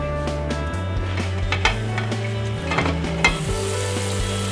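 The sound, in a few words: broth boiling in a pot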